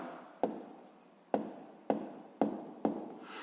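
A pen writes by hand on paper during a sixth-grade maths exercise, giving five short scratchy strokes at uneven intervals, close and distinct, with no talking.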